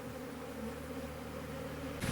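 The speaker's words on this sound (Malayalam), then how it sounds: "ഈച്ച പയ്യെ കയറിക്കൊണ്ടിരിക്കുകയാണ്" A steady, dense buzzing hum of many honey bees close by, continuous throughout and swelling slightly louder at the very end.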